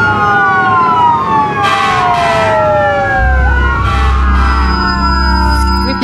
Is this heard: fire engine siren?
yes